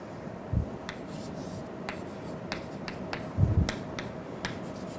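A pen writes an equation by hand in short scratchy strokes and taps, close and fairly quiet, with a couple of soft thumps.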